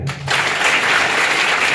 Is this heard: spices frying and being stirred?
no